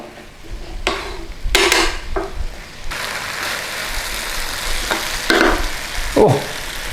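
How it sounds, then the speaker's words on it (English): Apple cooking down in a pan with butter, cinnamon and nutmeg, giving a steady close sizzle with occasional stirring scrapes and clinks throughout, with no talking. "we're just going to cook down the apple a little bit"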